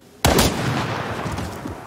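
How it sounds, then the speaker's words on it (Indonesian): A single sharp pistol gunshot from a Japanese film cracks loudly after brief quiet, followed by a dense, sustained rumbling tail with no speech. "Hinako malah mengarahkan pistol itu ke Utsubo dan menembaknya"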